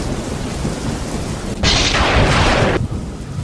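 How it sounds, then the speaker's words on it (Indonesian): Sudden thunder crashes over heavy rain as a clear sky turns dark, a dense steady downpour with a loud bright burst of thunder lasting about a second before fading back into the rain. "tiba-tiba terdengar suara petir. Dan seketika langit yang tadinya cerah langsung gelap dan turunlah hujan yang lebat"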